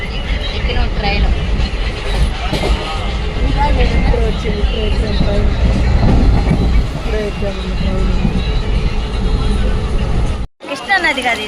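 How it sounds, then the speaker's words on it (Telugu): A train rolls past on railway tracks near the Krishna river, a loud rumbling clatter of wagons close by with crowd babble mixed in, ending in a brief dropout. "అదిగా ఆడ ట్రైన్ వచ్చింది"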